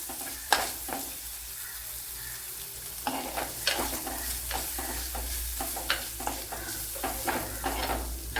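Half an onion sautéing in a hot pan, a continuous close sizzle broken by repeated scraping stirs and clacks of the spatula, with no voices.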